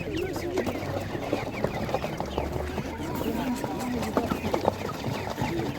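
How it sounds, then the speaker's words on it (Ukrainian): Hens clucking among the bustle of a rural livestock market in Ivano-Frankivsk region, with short bird calls scattered over steady crowd noise while people talk nearby throughout. "Гарна курочка така."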